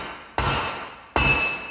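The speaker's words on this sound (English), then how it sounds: "I take my dead blow hammer, and I hold it as I get that." A dead blow hammer strikes twice, about a second apart, while tapping a pinion bearing off a Jeep Wrangler TJ Dana 30 axle pinion head. Each loud metallic hit is followed by a lingering ringing tone, with no talk.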